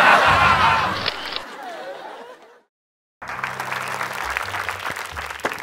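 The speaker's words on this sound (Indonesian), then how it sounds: "Gak usah tepuk tangan lu, gua lagi capek." A studio audience at an Indonesian TV comedy show claps loudly and breaks into chuckles. The sound cuts out briefly, then the applause returns with scattered laughter.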